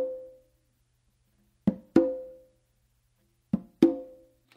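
Hand-played conga in a samba pattern, a ringing open tone followed by two pairs of sharp slaps and tones, close and isolated against silence.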